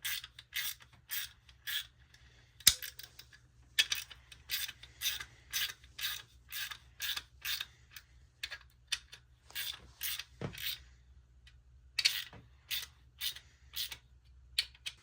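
Valve springs on a BMW 335d engine are slowly pressed down with a compressor tool, producing a series of short, quiet mechanical clicks and ratcheting scrapes at an uneven pace, close by with no talking.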